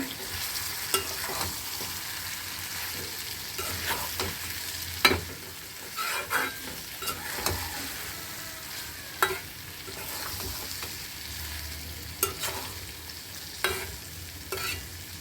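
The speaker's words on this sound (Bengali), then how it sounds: "এখন আমি নাড়াচাড়া করে মিশিয়ে নিব" Taro (kochur mukhi) is turned and mixed in a pan, with repeated spatula scrapes and knocks over a low, steady sizzle, fairly quiet and close throughout.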